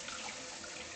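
Tap water running into a sink while hands are washed, a steady soft hiss of flowing water, faint and alone for a moment.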